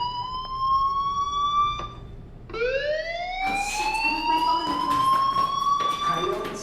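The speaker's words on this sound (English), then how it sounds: "Hey, do you hear that fire alarm?" Fire alarm in the Life is Strange video game: a loud, steady electronic siren tone with rising sweeps, briefly dropping out and then resuming over background music.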